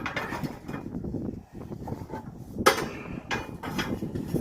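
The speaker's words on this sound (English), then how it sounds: "take the ceramic stone off. And now place your plancha" A metal plancha is set down onto a Monolith Classic Pro Series ceramic grill with a few clanking metallic knocks, close and clear with no talk.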